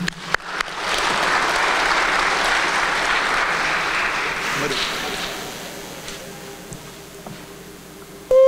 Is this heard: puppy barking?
no